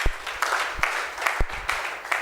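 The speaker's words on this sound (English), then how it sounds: "Can you clap once again for them?" A gathering's audience applauding honorees at an event, a steady wash of many hands clapping with a few sharper, louder claps standing out nearby.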